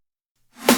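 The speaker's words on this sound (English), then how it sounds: "We've also added in a reverse snare just before the first snare hits to make it more interesting." A short reversed snare drum rises from silence in a quick swelling swoosh that builds to a sudden peak on a snare hit.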